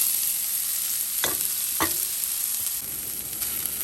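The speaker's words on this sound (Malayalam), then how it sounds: "ഒരു ഹാഫ് ഓണിയൻ, അതിനകത്തോട്ടിട്ടൊന്ന് വഴറ്റണം" Half an onion sautés in oil with spluttered mustard seeds for a methi leaf potato curry, making a continuous close bright sizzle broken by two sharp clinks of a utensil against the pan.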